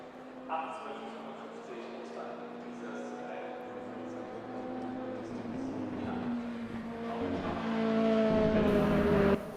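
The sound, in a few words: Mazda MX5 race car engine in video game RaceRoom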